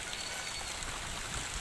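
Heavy storm rain driven by wind pours down in a dense, steady hiss without breaks, a loud wash of water that holds even throughout with no voices.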